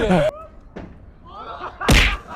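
A heavy thump of a body hitting the ground lands near the end, loud and sudden, after brief scattered voices and shuffling.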